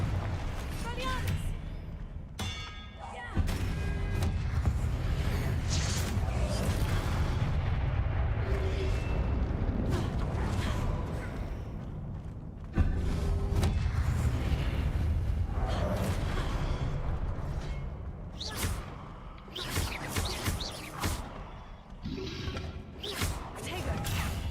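Confringo and Incendio spells blast during a Hogwarts Legacy duel, producing repeated heavy booms and crashing bursts in close succession. A player shouts excitedly over them throughout.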